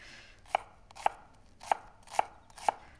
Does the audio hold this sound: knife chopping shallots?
yes